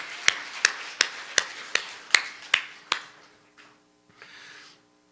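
A church congregation in Gimpo claps in unison, about eight sharp, evenly spaced claps in a steady beat that then stop, leaving a faint trailing murmur.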